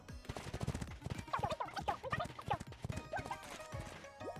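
Horse hooves clip-clopping in the Miitopia video game, a brisk, steady run of near hoofbeats mixed with other game sounds.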